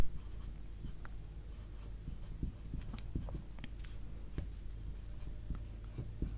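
A pen scratches across paper while writing a term in a maths solution on an arithmetic progression, with irregular close strokes and taps throughout and no speech.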